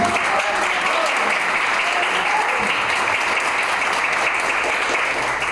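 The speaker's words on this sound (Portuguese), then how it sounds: "Vamos aplaudir bem forte." A church congregation applauding loudly and steadily, dense clapping that fills the worship space at an even level from start to finish.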